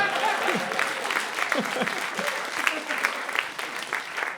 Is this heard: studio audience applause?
yes